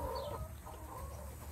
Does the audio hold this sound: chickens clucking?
yes